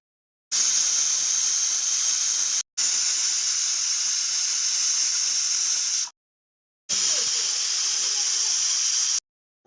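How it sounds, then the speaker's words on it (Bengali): A pressure cooker holding a mung dal and mixed vegetable dish lets off loud, steady steam hiss in three long bursts of about two to three seconds each, separated by brief silences. "কুকারে বসিয়ে দিয়েছি, এখন 2-3 সিটি মেরে নামিয়ে নেব।"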